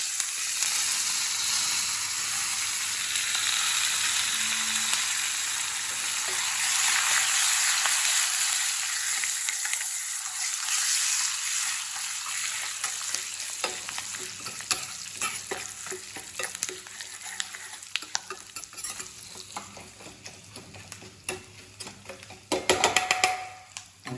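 Turmeric and curry leaves frying in oil for a pulihora tempering: a steady close sizzle that slowly fades, with stirring clicks and a burst of scraping near the end.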